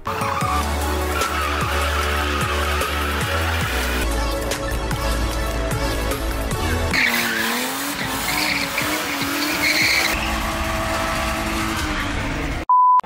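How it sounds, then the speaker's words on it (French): A car drifts with tires screeching continuously over a loud, revving engine. Squeals rise and fall as it slides, with a near, sustained roar throughout. "là il faisait de la voiture, du drift"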